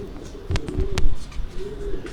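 Pigeons coo on a rooftop in low, soft, rolling tones close by, with a few brief flutters and taps in between.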